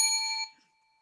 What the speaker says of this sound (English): ring a bell